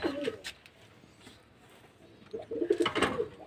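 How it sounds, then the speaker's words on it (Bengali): Nesting pigeons coo nearby, a throaty burst at the start and another louder run of coos near the end, with a quiet stretch between. "এই পায়রাগুলো দেখলে কিন্তু মনে হবে মাঠের গোলা পায়রা"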